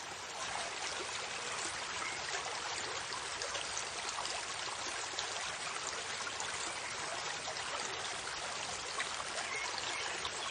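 A river of clear, clean water flows steadily, a continuous dense rush and trickle of moving water that holds an even level throughout, with no voices.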